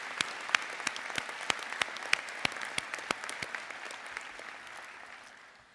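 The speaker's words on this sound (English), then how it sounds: "Let's give them a round of applause." Applause from a law school commencement ceremony audience, sparse and fairly faint, with distinct sharp individual claps standing out, then fading away near the end.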